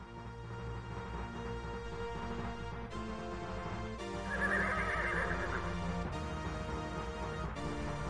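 A horse in the Freddy Pharkas Frontier Pharmacist computer game gives a loud, close whinny over steady game music, with hoof clip-clops among the synthesized accompaniment.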